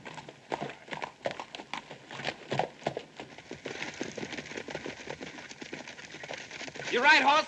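Hooves clip-clop in a quick, uneven patter from a single horse carrying two riders, moderately close, and a horse whinnies briefly near the end.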